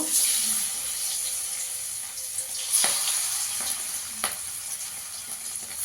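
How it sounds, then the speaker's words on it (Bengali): Steady oil sizzle from lentil cakes (dhoka) frying in a wok, with a few sharp clinks and bumps of a utensil against the pan. "এখানে কড়াইতে তেল দিয়ে দিয়েছি, এবার ধোকাগুলো ভেজে নেব।"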